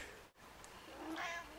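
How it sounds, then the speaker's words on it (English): A pet cat waiting at its grooming spot for a brushing lets out a single soft, drawn-out meow, close by and fairly quiet against a faint background hiss. "Cat."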